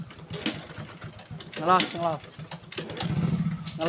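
A fuel-injected Honda Revo motorcycle is kick-started at close range with repeated clattering kicks and brief mechanical turnover, mixed with nearby voices talking.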